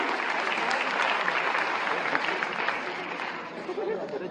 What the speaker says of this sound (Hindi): तालियों के साथ युवा शक्ति को प्रणाम।